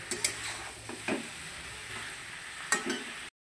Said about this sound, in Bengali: এবার এটাকে সুন্দর করে কষিয়ে কষিয়ে রান্নাটা করতে হবে।